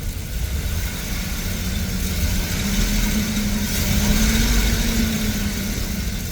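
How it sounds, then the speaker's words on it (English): A van engine with a slight misfire runs steadily with a low, continuous hum and some rough mechanical noise, held at a fairly constant level with only a slight rise in the revs, heard up close with no talking. "we're gonna give it a little bit of a rev so you guys can kinda hear"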